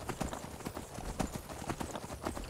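Galloping horse in Skyrim, its hooves beating a quick, even clip-clop rhythm up close, loud and continuous from start to finish with no voices on top.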